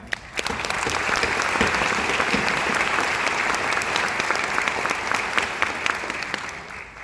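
An audience at the 2019 Beaufort County Community College commencement breaks into loud, sustained applause, a dense wash of clapping that holds steady for several seconds before tapering slightly.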